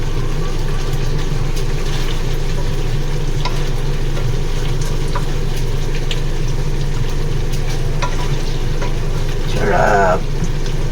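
Pork frying in oil in a wok for home-style adobo gives a steady, close sizzle that runs the whole way through, with faint scraping and stirring. A brief louder burst of sputtering comes near the end.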